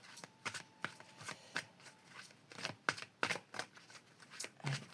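Oracle cards are shuffled and drawn by hand, a quiet close series of crisp papery riffles and slaps arriving in irregular bursts, roughly a dozen sharp flicks with short pauses between them.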